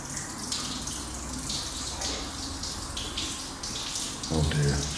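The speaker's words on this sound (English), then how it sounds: "the radiator burst and it's actually chucking out water everywhere" Water sprays steadily from a burst radiator, a loud continuous rushing hiss that fills the space, with a brief heavier gush near the end.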